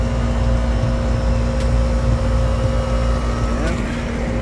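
A home central air conditioner runs with its fan and compressor going, giving a steady low mechanical hum with a constant tonal drone throughout, close and fairly loud.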